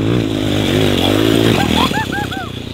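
Cheap Amazon go-kart engine running near 110 pit bikes, a loud, close buzzing putter that wavers in pitch, with voices talking over it toward the end.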